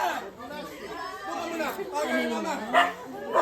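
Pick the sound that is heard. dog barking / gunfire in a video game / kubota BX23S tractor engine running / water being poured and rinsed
dog barking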